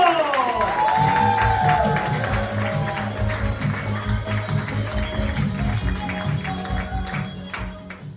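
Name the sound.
comedy club audience clapping and cheering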